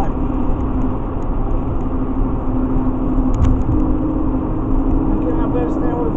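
A heavy vehicle engine roars steadily close by, a deep continuous rumble with a slight swell in revving midway, under faint background noise.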